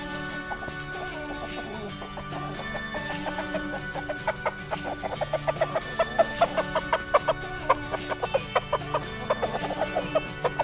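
A backyard flock of chickens in a Michigan garden in January clucking continuously, with rapid overlapping clucks building toward the end, close and fairly loud with no talk.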